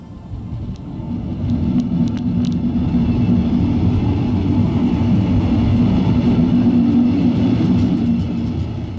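A double-deck train of Dosto 03 coaches hauled by a class 146.1 electric locomotive departs Düsseldorf Airport station, a loud, steady rumble building up within the first seconds and holding throughout, with no voices.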